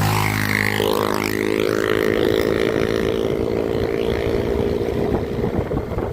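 Engines drone loudly and continuously nearby, with revving and a rough, buzzing roar like motorbikes moving past, wind noise mixed in.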